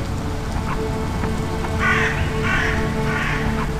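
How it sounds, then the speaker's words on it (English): Crows caw three or four times at mid-distance over a steady wash of rain in the video game I Remember the Rain, the harsh calls sitting clearly above the constant patter. "Crows or sparrows or something like that,"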